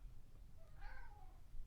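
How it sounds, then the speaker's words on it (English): A cat meows once, a short rising and falling call at moderate distance, over steady low background hum in an indoor space. "oh cat."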